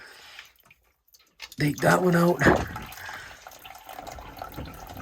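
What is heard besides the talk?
water draining out of boat through drain plug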